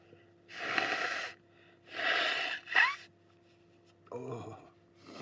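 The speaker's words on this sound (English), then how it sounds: "So, just have to sneeze." Several forceful breathy bursts like sneezes and snorts, separated by pauses, close and fairly quiet, with a short vocal sound near the end.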